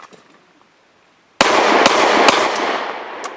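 A Remington R51 pistol firing aluminum-case ammunition, several sharp, loud reports in quick succession after a moment of quiet, each crack ringing out over a lingering wash of echo.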